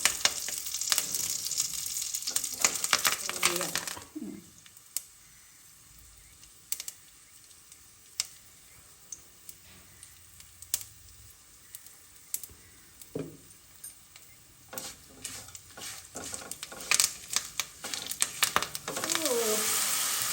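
Ingredients for a homemade pachadi (chutney) are stirred and fried in a pan, giving intermittent scraping, clicking and sizzling with quiet stretches between bursts of activity.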